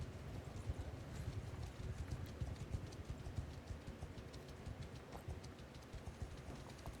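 Horse hooves clatter in a steady, rapid clip-clop rhythm during a long ride across Calradia in Mount & Blade II Bannerlord, continuous and fairly close, with no talking over them.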